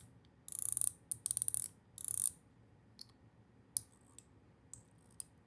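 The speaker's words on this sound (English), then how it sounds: "we get this kind of slow click, a much tighter set of clicks" Mechanical clicking from a Phase 1.5 fidget toy, first in three quick dense bursts of tight rapid clicks, then a few sparse, isolated single clicks, close and crisp with no talking.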